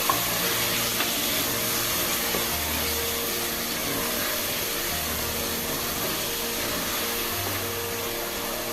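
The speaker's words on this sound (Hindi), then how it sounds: "अब हम इसमें डालते हैं दाल और दाल डाल के भूनते हैं।" Lentils frying with mutton in a pot make a continuous dense hiss and sizzle, steady and fairly loud throughout, with a low hum underneath and no voices.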